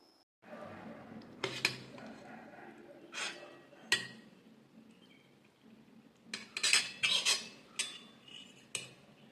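A spoon and fork clink and scrape against a plate while someone eats, giving irregular bright metallic taps and clatters that are quiet at first and then come in a busier cluster, with soft breathing between them.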